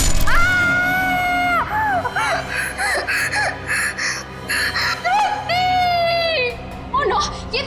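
A woman waking from a nightmare in a TV crime drama lets out several long, high, wavering screams and distressed cries, loud and close, broken by short gasping pauses.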